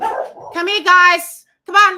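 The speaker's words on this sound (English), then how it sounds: "Sorry about the dogs barking." Several dogs, including ones named Chrissy and Ruby, bark and yip in short bursts close by, mixed with a person calling to them.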